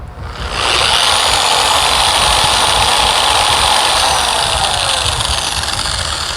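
An Adam's SK Pro polisher set to speed 2 ramps up with a slow start, then runs with a loud, steady whirring drone close by and no talking.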